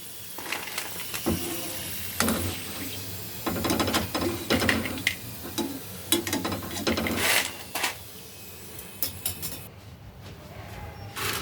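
Crispy fried taro chips, salted and cooled after frying, crunch in short bursts of brittle crackling, close and fairly loud, with brief pauses between bites and no talking.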